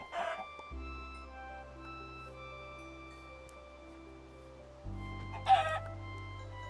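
Video game chickens give several short clucks and a crowing call, clear and close, separated by quiet stretches over a steady low game hum, with no talk.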